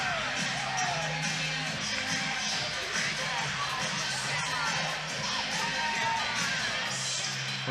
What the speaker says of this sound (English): Another good crowd here inside Horish